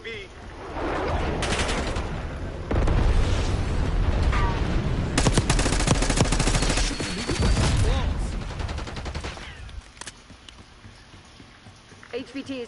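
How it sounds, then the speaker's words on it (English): Napalm strike in Black Ops 6 multiplayer, a heavy roaring wash of explosions and fire that rises after a few seconds and rumbles on before fading, with scattered gunfire and game voices over it. "Napalm strike on my mark."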